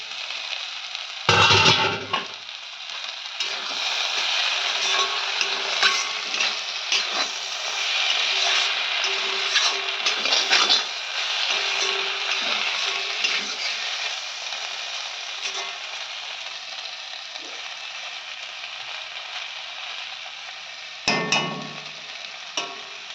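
Green chilies and tomato sizzle steadily in a hot frying pan for about twenty seconds, with occasional louder scrapes and knocks from stirring, close by and with no voices.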